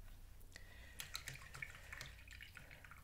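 Paintbrush being rinsed in a small container of water, giving soft, faint dripping and light splashing clinks that are close but quiet, with no talking.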